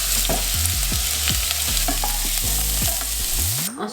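Finely chopped onion sizzles steadily in hot olive oil while being stirred, with rhythmic scraping strokes of a utensil across the pan throughout the short stretch, close and loud with no talking.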